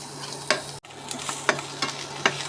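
Chopped onions frying in a hot pan give a bright, constant sizzle, broken by several sharp spatula scrapes at regular intervals and a brief drop-out near the start.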